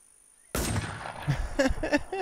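In the game The War Z, after brief quiet, a sudden loud gunshot cracks out, followed by a few quicker, fainter shots in the distance.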